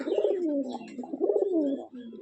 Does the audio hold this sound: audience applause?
no